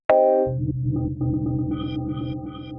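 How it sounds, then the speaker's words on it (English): A plucked guitar note through a UFX Reverb pedal blooms into a stuttering, glitchy reverb wash, with choppy repeating fragments and sparkly high blips flickering over a sustained low drone. "Crazy, glitchy, creative reverbs are covered."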